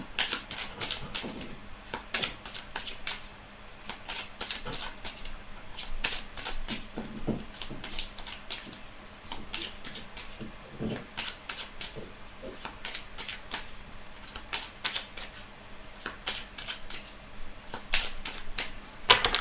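Tarot cards being shuffled and cut, a dense run of crisp riffling snaps and flicks at close range, continuing steadily with no talk.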